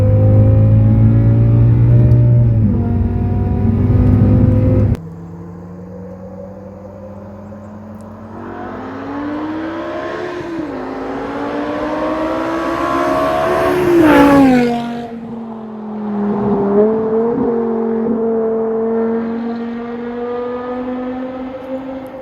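A BMW E63 M6 engine pulls and revs while driving, a loud harmonic howl that climbs steeply to a high-pitched peak, then drops back and settles into a steady cruising drone, with a sharp cut partway through.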